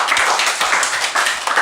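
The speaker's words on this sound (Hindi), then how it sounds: "जोरदार तालियां धवल के लिए" An audience clapping in a room, short bursts of hand claps with an uneven rhythm, fairly close and moderately loud, brief and without speech.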